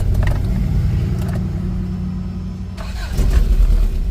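An Isuzu Trooper 4x4 with a manual clutch idles with a steady low engine rumble, then the engine note shifts and grows louder as it restarts and settles near the end.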